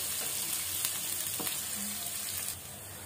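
Cumin, mustard seeds, curry leaves and chilli fry in hot oil for besan kadhi, giving a soft, continuous sizzle with faint stirring clicks, heard alone at low level.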